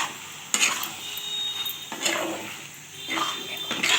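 A utensil stirs snake gourd with poppy seed paste in a hot pan, giving a soft steady sizzle broken by repeated scraping strokes that come roughly every second or two.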